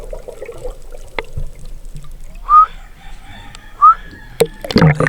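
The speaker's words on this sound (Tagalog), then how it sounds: "napaka-maingay po talaga ng mga manok na to" Roosters crow twice in the distance over a steady background hiss, with a few sharp knocks and clatter near the end.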